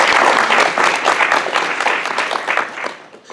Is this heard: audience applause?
yes